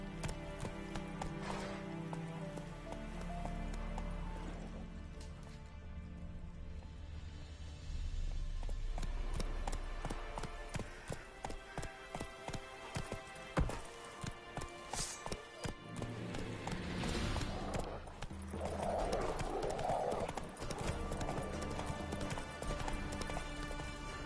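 The horse Roach gallops in the Witcher 3 video game, with rapid rhythmic hoofbeats on the ground, a whinny, and a shifting ambient game soundtrack underneath, all fairly quiet.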